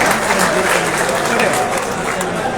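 Loud, dense applause fills a packed hall in Hisar as a crowd welcomes a Haryana minister at a political gathering, steady throughout with crowd murmur underneath.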